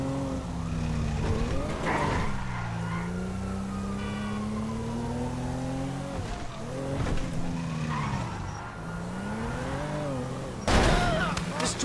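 Car driven wildly in Grand Theft Auto V, with engine revs rising and falling, repeated tire skids and a siren wailing through, loud and continuous for the whole stretch.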